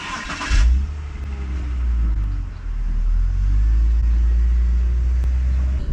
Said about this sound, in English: Okay, so I'm gonna go ahead and start driving the car.